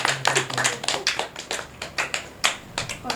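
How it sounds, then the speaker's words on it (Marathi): Scattered clapping from a small family-event audience, a handful of sharp, uneven hand claps in loose bursts, fairly close and moderately loud, with no voices. "त्यांच्यासाठी जोरदार टाळ्या."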